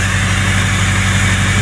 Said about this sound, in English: That's that jet engine sound. It's a lot louder, and it sounds a lot deeper.